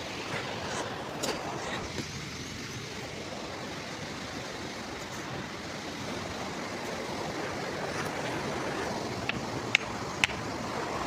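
Rushing water flows steadily nearby, a constant broad wash with a few faint clicks near the end.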